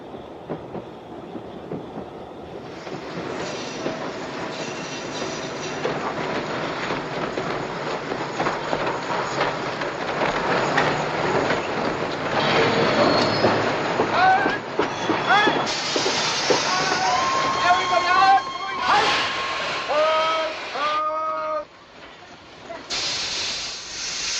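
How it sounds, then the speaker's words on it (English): Trains roll past on a railway track in a 1951 film scene, a long mix of hissing steam, rumble and clattering wheels growing louder, with shouting voices and sharp metallic squeals near the end. "We have to clear the track. Our trains are coming!"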